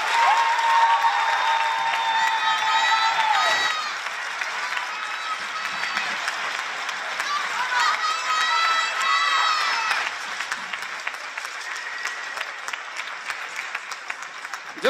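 Sustained audience applause and some cheering at a live drum-circle concert, a dense crackle of many hands that holds for several seconds and then thins and softens, with voices calling out now and then.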